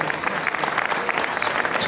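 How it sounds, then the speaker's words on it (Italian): A live audience at an Italian interview event breaks into brisk, continuous applause, a dense close wash of clapping throughout. "Bisogna fare un applauso alto"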